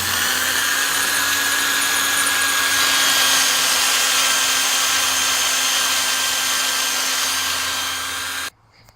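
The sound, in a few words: power drill drilling a hole to mount a heatsink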